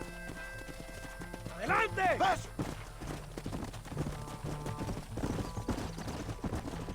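Horse hooves clip-clop steadily while riding in Red Dead Redemption, a western video game, mixed with game music and a brief whinny, with a short spoken line over the top.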